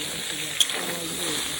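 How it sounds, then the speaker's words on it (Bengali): Soaked, squeezed soybean chunks sizzle in oil in a pan, a short close frying hiss with one small sharp click partway through. "সোয়াবিন গুলার ভাজা লইতেছি।"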